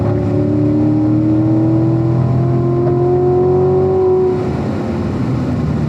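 A car engine on a race track at a driving school pulls hard out of a corner, its note climbing steadily as it accelerates, loud and close with no talking.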